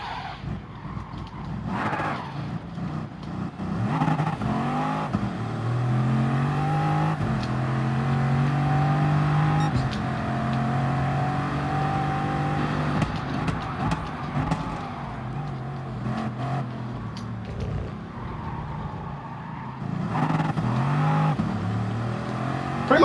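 Chevy Chaparral race car of almost 2,000 horsepower launching in second gear in a video game, the engine revving loudly with rising and falling pitch sweeps and shifts across a sustained run.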